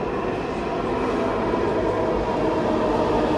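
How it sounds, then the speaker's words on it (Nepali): A metro train arriving at a station in Bangalore rumbles steadily close by, a continuous loud roar of wheels and motors with no voices. "मेट्रो चाहिँ आइसकेको छ"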